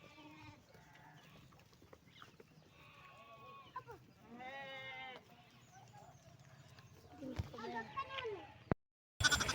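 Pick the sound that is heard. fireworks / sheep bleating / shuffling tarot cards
sheep bleating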